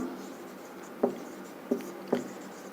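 Pen strokes of someone writing out a maths solution, three short distinct scratches spaced apart over a faint steady background hum, fairly quiet and close.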